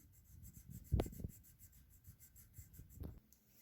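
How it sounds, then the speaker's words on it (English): Crayon rubs across paper in soft scratchy strokes, faint and close, with a couple of firmer bursts and quiet gaps between. "So I coloured them in with crayon."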